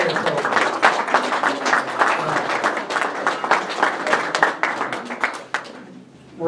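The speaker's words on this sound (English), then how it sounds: "a big round of applause would be very appropriate" Audience applause after a call to honor a community member at a political gathering: steady, dense clapping from a crowd filling the room, fading out near the end.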